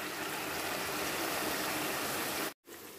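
Jaggery syrup simmering while cooking phoolkhaaj for the Uttarakhand Phool Dei festival, a steady dense bubbling hiss that cuts out briefly near the end before resuming.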